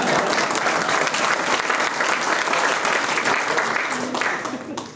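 Audience applause at a seminary fund launch dinner: full, sustained clapping from a large crowd that holds steady, then eases off near the end.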